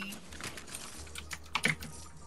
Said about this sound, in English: Bro, I just hear you clacking your keyboard.